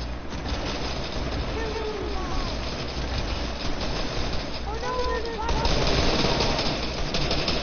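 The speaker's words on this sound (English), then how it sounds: "Who's shooting at me?" Gunfire in the Fortnite video game rattles steadily beneath a loud wash of game noise, with a denser burst near the end, while players talk over it.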